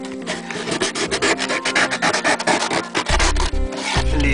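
Cardboard from a DIY cardboard PC case is cut and pulled apart, making continuous close rough scraping and tearing rasps with short irregular strokes, ending in a heavier low rumble, with no talking.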